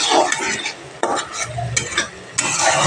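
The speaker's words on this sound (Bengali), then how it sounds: "এইভাবে কষিয়ে নিতে হবে।" Spices for a Bengali bhola fish curry with potatoes are stirred in hot oil in a pan, producing a loud, continuous sizzle with repeated close scrapes of the spoon against the pan.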